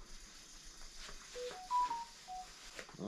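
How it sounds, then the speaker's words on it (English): Several short electronic phone notification tones, single beeps at different pitches spaced irregularly over a few seconds, faint and set against quiet room noise. "This is what your phone does all the time when you're answering messages"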